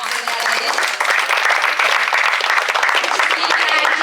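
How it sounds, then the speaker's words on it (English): Conference audience claps for a sponsor at a sports cup inauguration event, a dense, steady round of applause running loud and close for the full few seconds. "Give them a round of applause"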